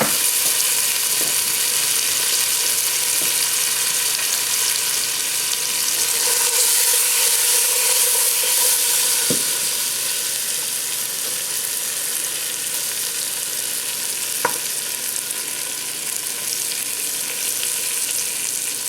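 Brinjal fries in a pan over a low flame with a steady, close sizzle and occasional faint clicks. No one speaks.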